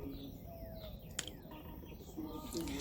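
Faint bird chirps and tweets outdoors against a soft hiss of insects, scattered calls at a distance.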